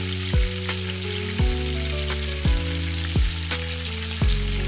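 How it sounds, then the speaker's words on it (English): Mushroom soup ingredients with salt sauté in a pan, giving a steady sizzle and frying hiss. Five evenly spaced low thumps from the utensil striking the pan land over the constant sizzle. "I am going to saute it again"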